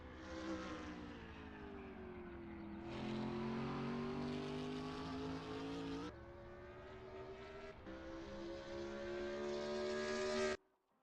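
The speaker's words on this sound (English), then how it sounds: "driving a Nissan GT-R GT3" Nissan GT-R GT3 race car engine at Le Mans in a racing video game, a loud continuous drone rising in pitch through the gears with sharp shift drops, alone and steady until it cuts off abruptly near the end.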